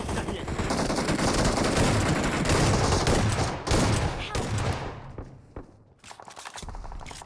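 Rapid bursts of automatic gunfire fill a battle royale shootout as rivals rush in for close-range kills with an assault rifle, dense and loud for several seconds before thinning to sparser shots.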